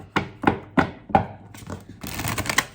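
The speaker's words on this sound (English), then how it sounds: "I'm going to shuffle." Tarot cards being shuffled by hand, a series of four or five distinct soft thumps at regular intervals, followed by a denser crisp riffling of cards, close and alone.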